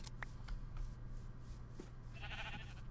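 Minecraft sheep being sheared, a short bleat followed by a brighter game sound effect near the end, faint over a steady low background hum.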